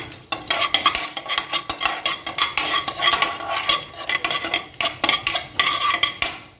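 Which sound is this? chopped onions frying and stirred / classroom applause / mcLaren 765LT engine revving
chopped onions frying and stirred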